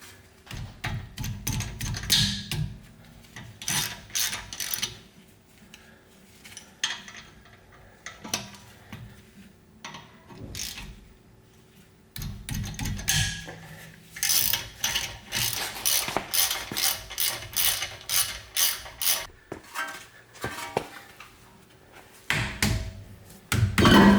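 Brake rotor set screws on a BMW F10 M5 being loosened with a 5mm hex tool, rapid ratcheting clicks in repeated bursts with pauses and clunks between, close and clear.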